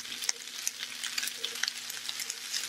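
Lentils frying in a pan for a vegan lasagna, a soft continuous sizzle broken by frequent light scraping and clicking from a spoon stirring, fairly quiet with no voices.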